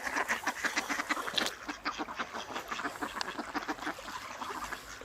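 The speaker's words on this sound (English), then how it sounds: "And the ducks are still feeding." Several ducks feeding on a river quack repeatedly in quick, overlapping bursts, fairly close and moderately loud, with no speech over them.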